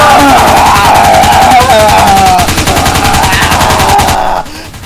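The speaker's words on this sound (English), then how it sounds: "Didn't you hear those gunshots?" Loud, sustained machine-gun fire with rapid continuous shots and some shouting mixed in, cutting off abruptly near the end.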